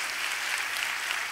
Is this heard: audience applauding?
yes